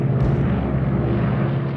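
RAF heavy bombers fly over the Atlantic Wall coastal guns at Operation Overlord, a loud, deep, rumbling aircraft engine roar that fills the brief moment without pause.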